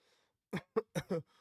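Four short, sharp coughs in quick succession after a brief near-silence, close to the listener with a faint hum in the background.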